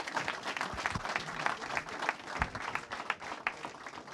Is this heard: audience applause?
yes